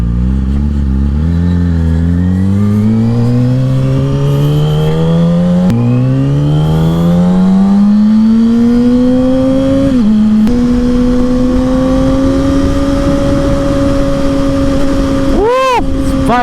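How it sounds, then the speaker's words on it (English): Yamaha R6 motorcycle with a cut exhaust, loud and close, revving up through rising gears in repeated pulls, then holding a steady high drone before a sharp burst near the end. "This bike is so much more loud, bro. So much louderness."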